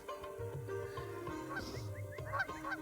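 Ducks honk and quack repeatedly in short, nasal calls as they cross nearby, the calls bunching together toward the end.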